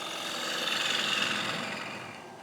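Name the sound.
woodturning gouge cutting into a wooden bowl on a lathe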